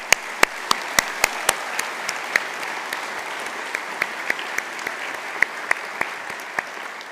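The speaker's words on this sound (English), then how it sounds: "we should just take a moment and to reflect on that with a warm round of applause" Audience at a university conferring ceremony giving a warm round of applause, steady dense clapping from a large crowd in a hall, with a few sharper individual claps standing out near the front.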